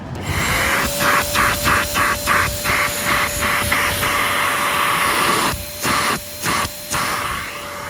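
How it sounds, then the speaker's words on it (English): A Singer Lazer HEPA 2-in-1 handheld vacuum cleaner runs with a steady loud whining motor and rushing airflow, broken by rhythmic dips as the nozzle is repeatedly blocked and released, close up with no voices. "this machine has a small vacuum motor in it, like what you would find in a Bissell compact vacuum"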